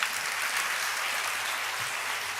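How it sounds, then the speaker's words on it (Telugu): A congregation at a church service claps together in a dense, even wash of applause that holds steady for a couple of seconds. "కొట్టు ఇప్పుడు చప్పట్లు."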